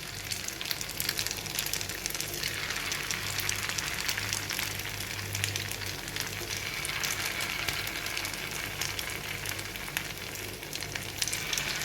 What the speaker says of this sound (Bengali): আমি এইভাবে সব কোপ্তাগুলো ভেজে নেবো।